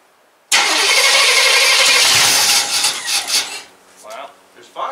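Engine of a 1991 GMC Jimmy cranking and catching, a loud close roar that bursts in abruptly, holds steady, then rises and falls unevenly as it settles, with a voice briefly heard.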